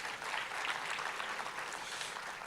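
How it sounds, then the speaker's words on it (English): Steady, dense applause from a forum audience honouring a princess, a thick wash of many hands clapping at once that holds loud and even throughout. "Can we give another round of applause to the princess?"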